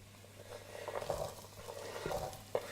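Carrots sautéing in a pan for ginger, carrot and coriander soup, a quiet sizzle with soft stirring scrapes and an occasional louder clatter.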